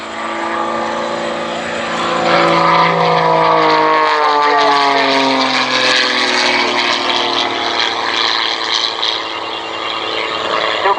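A propeller-driven aerobatic plane flies past at the Abingdon Airshow 2017, its loud engine drone swelling and shifting in pitch as it passes close by along the runway line.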